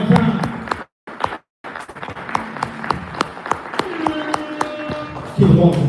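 A comedy show crowd in a coffee venue claps in scattered, sharp bursts after a couple of brief silent gaps, with a voice talking over the applause.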